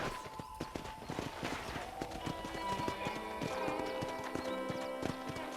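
Horse hooves in Red Dead Redemption clip-clop in a steady trotting rhythm close by on a ranch, with a whinny rising partway through amid faint background rumble.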